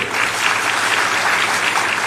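Steady applause from a crowd, dense and loud, with clapping sustained throughout and no voices on top.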